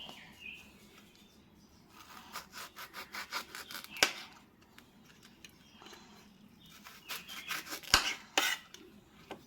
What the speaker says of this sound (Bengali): এবার আমি পিস পিস করে কেটে নিচ্ছি